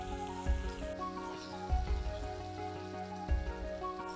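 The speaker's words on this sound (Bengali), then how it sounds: "ভালো করে আমি একটু পেঁয়াজটা ভেজে নেব" Onion frying in hot oil for a Bengali egg and potato curry, a dense continuous sizzle and crackle with a few deeper thumps of stirring, close up.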